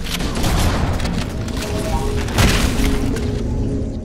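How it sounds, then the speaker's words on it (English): Explosions in Halo: Combat Evolved, dense booming blasts and crashing debris with one sharper burst near the middle, loud amid ongoing game noise, a voice faintly under it. "I love how they explode as well"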